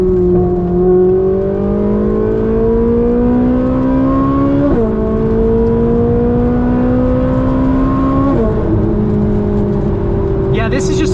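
A Ferrari 458 Spider's naturally aspirated 4.5-liter V8 accelerates hard, its loud, rising howl climbing steadily through the rev range, with two quick upshifts that drop the pitch, all heard from inside the car.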